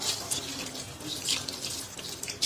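Potatoes being rinsed under a running kitchen tap, a steady close splashing stream of water into the sink with small surges, and no voices.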